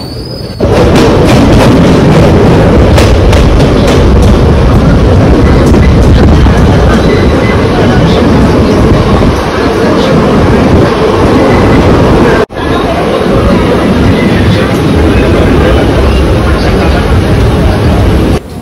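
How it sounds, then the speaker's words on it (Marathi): The Bandra Vapi Express pulls out of Palghar station on Indian railways, a loud, continuous rumble and roar of the moving train with faint rhythmic rail clatter and a brief jolt partway through. "इथे पण 2 ते 3 मिनिटं थांबून ट्रेन आता पालघर स्टेशनवरून निघाली आहे"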